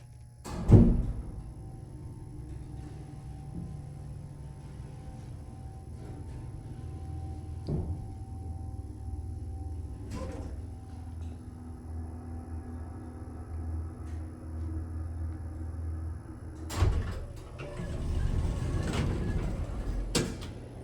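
An ESCO hydraulic elevator motor runs with a steady low hum and faint tonal whine, broken by a few sharp mechanical clunks near the start and end, followed by a louder surge of rumbling near the close.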